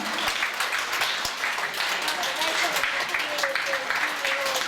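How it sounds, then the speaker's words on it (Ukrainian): An audience at a Khakas pop song concert applauds steadily and fairly loudly while voices talk and call out over the clapping. "Аплодисменты ваши."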